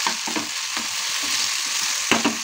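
Boiled potatoes sizzle in hot oil in a wok: a steady, close frying hiss with occasional spatula scrapes and a pair of sharper knocks near the end.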